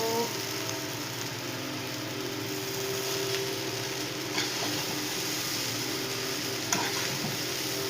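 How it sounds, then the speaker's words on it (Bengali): Egg chow mein sizzles steadily in a hot pan while being stirred, a constant frying hiss with occasional scrapes and clinks from the utensil. "তো এই দেখো আমি চাউমিন দিয়ে দিয়েছি এর মধ্যে, দেখতে পাচ্ছ ডিম দিয়ে চাউমিন, গরম গরম"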